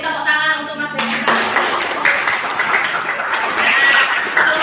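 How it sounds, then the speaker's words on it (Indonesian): Classroom applause for a student, a burst of clapping from a group following a short voiced tone, steady and fairly loud to the end. "Beri tepuk tangan untuk Mas Birnesa"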